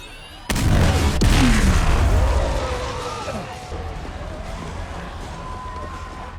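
A sonic boom weapon fires in the Peacemaker TV show finale, a sudden loud broadband blast with a low rumble that lingers and fades, with background action sounds continuing under it.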